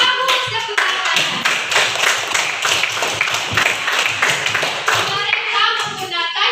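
Children in a primary classroom clap their hands together in a lively burst, a quick, fairly close rhythm of claps that runs throughout, with young voices calling out between the claps.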